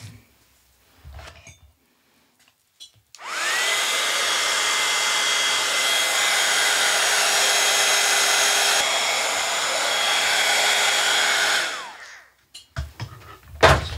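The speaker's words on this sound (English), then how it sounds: "I'm just going to get the heat gun on that, give it a dry" Heat gun blowing steadily for about nine seconds while drying paint on a Christmas craft piece made from found items, a loud continuous whooshing roar with a whine, starting and stopping abruptly, with light handling clicks before and after.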